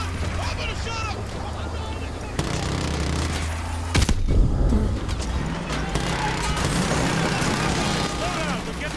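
Rapid gunfire and bursts of automatic weapons in Call of Duty Modern Warfare 2 Remastered on PS4, loud and continuous with a heavy impact midway, layered under shouted voices.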